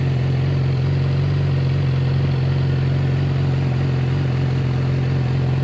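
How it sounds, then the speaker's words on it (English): A 2013 Yamaha R6 sport motorcycle engine drones steadily and continuously at high RPM, with a thin, buzzing, tinny exhaust tone and no voices. "Very weak exhaust, very weak. The exhaust isn't loud at all. Sounds very tin canny,"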